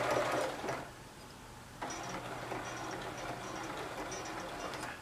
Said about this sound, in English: I'm just going to sew down.